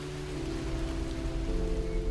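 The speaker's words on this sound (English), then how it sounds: "What about the sound of rain?" Steady rain falls in a continuous, even patter, filling the scene at moderate loudness with a faint low hum underneath.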